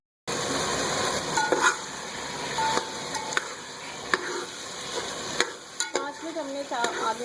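Potatoes for cumin rice sizzle and fry steadily in a pan, with occasional clinks and scrapes of a spoon stirring over the constant crackle.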